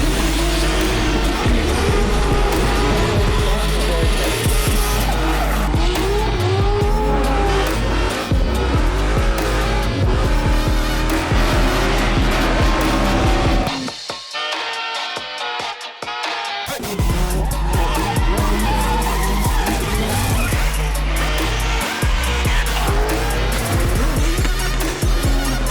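Drift cars at a national drifting championship race at Teretonga, with loud engine roar and sustained tyre squeal. The noise drops out briefly midway, then the screeching and revving return.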